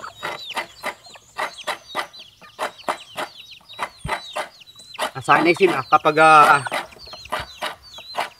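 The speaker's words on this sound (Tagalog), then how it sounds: "Yung ating mga manok, yung mga sisiw." Chickens cluck in quick, repeated bursts close by, with chicks peeping, while a person talks over them partway through.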